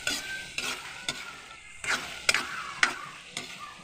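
Canned sisig with hotdog, tomato, onion and garlic stir-fried in a pan, with repeated rhythmic spatula scrapes and knocks about every half second over a bed of close sizzling.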